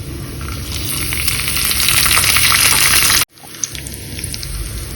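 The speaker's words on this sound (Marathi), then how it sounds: "एका छोट्या पॅन मध्ये तुम्ही 1 चमचा पोहे खायचा तूप घेऊन त्याच्यामध्ये काजू, बदाम आणि किसमिस रोस्ट करून घ्या" Cashews, almonds and raisins roast in ghee in a small pan, giving a steady, close sizzle that cuts off abruptly, then resumes more quietly with a light clink or stir; no talking.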